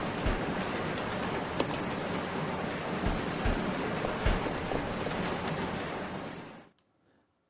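A train rolling along in Resident Evil 0, a steady loud broadband rumble with occasional low thumps and clanks throughout, cutting off abruptly near the end.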